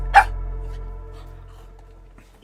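A puppy gives one short, sharp bark near the start, followed by quiet room hum and a small noise at the end.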